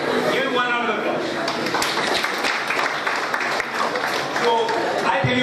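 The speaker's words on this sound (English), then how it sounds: "Give him one round of applause." An audience in an education programme hall breaks into steady, dense applause, many hands clapping together at close range for several seconds, with voices mixed in.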